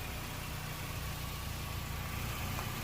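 A car engine idles steadily nearby, a constant low rumble with faint vibration and no voices.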